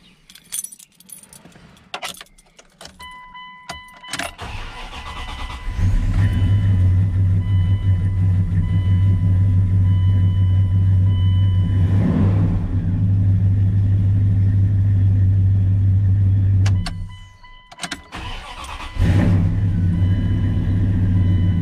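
Pickup truck with an aftermarket exhaust: keys jangle, then the engine cranks and fires up into a loud, deep rumbling idle, with a short dip and revving near the end.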